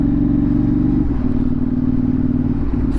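KTM 790 Duke fitted with an SC Project S1 exhaust idles on a dyno in track mode around 1,500 RPM, a loud, steady low thrum with a slight dip in tone about a second in.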